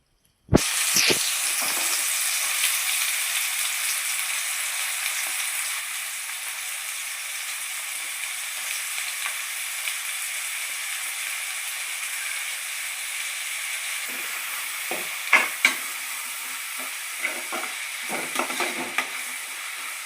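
Onions fry with shahi jeera in a hot pan, giving a loud, continuous close sizzle and hiss that holds steady throughout, with occasional stirring scrapes toward the end.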